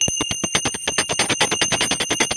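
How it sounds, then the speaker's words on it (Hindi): A prayer bell is rung rapidly and steadily, its clapper striking in a fast, even series of bright metallic hits over a sustained high ringing tone, loud and close, with no voices. "घंटी ईश्वर को पुकारने के लिए।"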